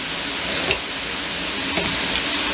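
Carrots and mince sizzle steadily in a frying pan, a constant close hiss with a couple of faint clinks of stirring and no voices.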